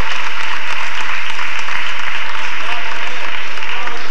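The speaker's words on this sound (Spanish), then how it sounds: "aplauso del público" Spectators at a 1997 football match between Racing Benaguasil and Chelva applaud a goalkeeper's save, a loud, close, continuous roar of clapping from the crowd that holds steady throughout.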